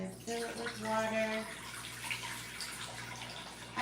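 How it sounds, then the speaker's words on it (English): Tap water runs into a cooking pot on a kitchen stove, a steady, moderate splashing stream that continues throughout, with a faint hum underneath. "Gonna fill it with water."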